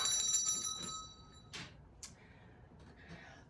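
A bell rung indoors gives a bright ringing tone that fades over about a second and a half, followed by a few faint clinks and knocks in a quiet room.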